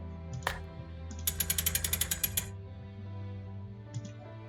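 A crank mechanism in the computer game Curse of Blackmoor Manor turns with a quick run of about a dozen even mechanical clicks, framed by a few single clacks over a low, steady game hum.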